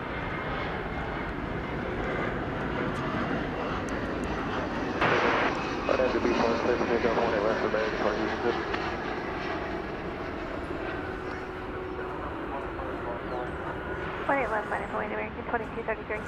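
A Lufthansa Boeing 787-9 taxis for takeoff at DFW Airport, its engines droning steadily at moderate distance while a voice talks over the noise and brief clatters break in midway.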